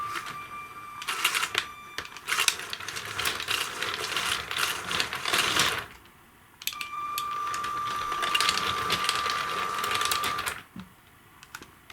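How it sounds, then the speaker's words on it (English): A powered LEGO Orient Express train running backwards, giving a steady mechanical clicking and whirring that is not quite smooth, loud and close, with a short pause before the running resumes. "Going backwards, it's a bit of a clicking noise and it doesn't quite run as smoothly as going forwards"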